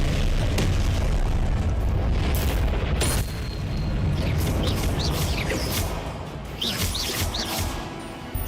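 Spell explosions from Confringo and Incendio in Hogwarts Legacy arrive as a dense run of loud booms and fiery bursts, several sharp impacts layered over a constant roar, with chirpy magical whooshes near the end.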